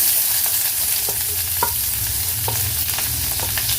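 Onions, curry leaves and fennel frying in oil for ridge gourd poriyal, a loud unbroken sizzle up close with a few spatula scrapes against the pan.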